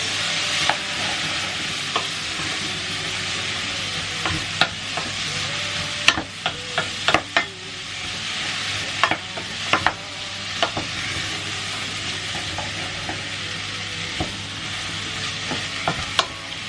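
Potato and sausage hash being stirred in a pan, a low steady sizzle punctuated by repeated sharp clacks and scrapes of a utensil against the pan.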